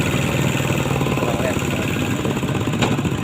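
A farm tractor's engine idles nearby with a steady, rough, throbbing rumble that runs without a break, while a voice talks over it.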